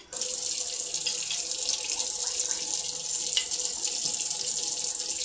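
Water runs steadily from a kitchen sink tap while grits are rinsed, a continuous close hiss and splash with slight fluctuations and occasional small clatters, no voices.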